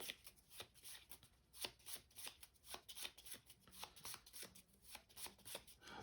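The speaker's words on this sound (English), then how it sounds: "Shuffle these up." Cards from the Shifting Stones board game are shuffled by hand at close range, with quick papery riffles and snaps repeating in an uneven rhythm over several seconds.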